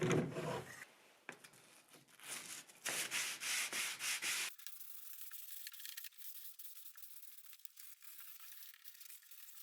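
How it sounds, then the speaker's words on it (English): Rhythmic rubbing strokes of sanding on a shop-made wooden T-slot track saw guide, close and moderately loud at first, then a thinner, quieter scraping continuing to the end. "After the slot was sanded,"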